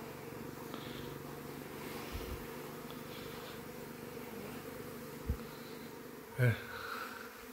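A swarm of bees leaves the hive in the evening, a dense, steady buzzing drone held throughout, broken by a few soft thumps and a brief bump near the end.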